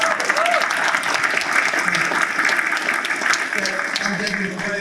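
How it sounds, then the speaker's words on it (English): A conference crowd applauds steadily and fairly loud for several seconds, with a faint voice rising briefly above the clapping. "Let's give them another round of applause."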